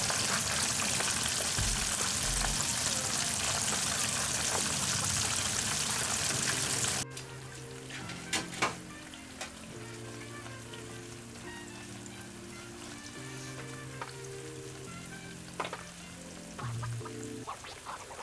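Small horse mackerel caught on Awaji Island deep-frying in hot oil, a loud dense sizzle for about seven seconds that then drops to a much quieter crackle with tonal sounds mixed in.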